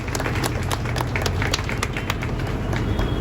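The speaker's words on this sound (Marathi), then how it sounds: "राजसाठी जोरदार टाळ्या वाजवल्या पाहिजे." Applause for actor Raj at a Savitribai Phule birth anniversary gathering held by Shelar gram panchayat, with continuous dense clapping throughout, loud and close amid crowd noise.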